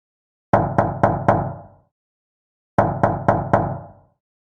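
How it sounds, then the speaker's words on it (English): Knocking on a door in two bursts of four sharp, evenly spaced raps separated by a short silence, close and clear with nothing else around them. "Suddenly, there is a knock at the door."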